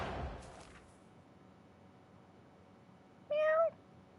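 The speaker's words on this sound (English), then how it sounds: "my cat is right next to me" A pet cat beside the speaker gives a single short, rising-then-falling meow near the end, standing out clearly against a quiet background after a faint burst of noise at the start.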